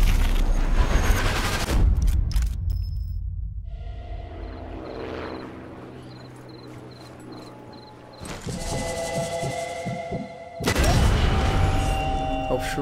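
Gunfire in the shooter Sniper Elite 4 comes as loud, dense bursts at the start, then again around the middle and near the end, separated by quieter stretches of low ambient rumble and faint beeping.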